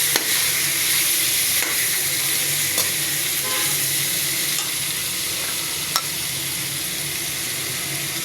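Chicken stir-frying in a pan, a loud continuous sizzle close at hand with a few stirring clicks and scrapes, no voices.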